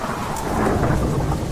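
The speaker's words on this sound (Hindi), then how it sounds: "बाहर मूसलाधार बारिश हो रही है, बिजली कड़क रही है।" A heavy downpour roars steadily while deep thunder rumbles through it, a dense, loud wash of rain with no voices.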